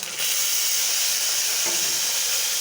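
Chicken frying with tomatoes, coriander and fenugreek leaves in a hot pan, a loud steady sizzle and hiss that starts abruptly and continues without pause.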